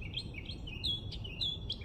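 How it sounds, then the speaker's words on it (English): A small bird chirps outdoors in short, repeated tweets, close and clear above a low steady background rumble, with no talking. "That bird has some opinions on us being here."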